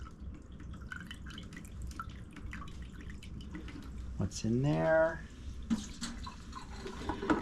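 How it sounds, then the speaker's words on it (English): Water trickles and drips steadily as a watercooler tank drains through a plug in its bottom, a faint, continuous wet patter running throughout with someone talking over it. "And that will slowly drain"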